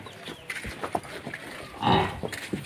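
A tall third-calver buffalo at a livestock sale gives a short low moo near the middle, amid soft farmyard noise and scattered knocks close by.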